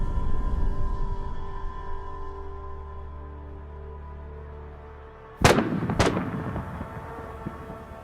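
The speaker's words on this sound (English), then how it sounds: "one of the armored vehicle's ammunition detonates, causing a massive explosion." A loud, deep explosion bursts out around the midpoint as an armored vehicle's ammunition detonates, followed quickly by a second blast, both rising above a steady low rumble of distant engines.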